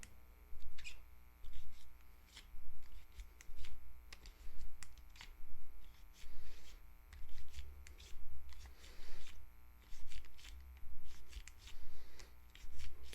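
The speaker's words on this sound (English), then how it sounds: "going to take that patch, run it through each cylinder once again" A cleaning patch on a bore brush is run through the cylinders of a revolver, producing soft, regular brushing strokes about once a second over a faint, steady hum.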